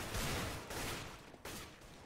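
Gunfire in Counter-Strike: Global Offensive on a jailbreak server, a dense, sustained stream of shots in a few bursts with brief gaps, loud and continuous with no talk.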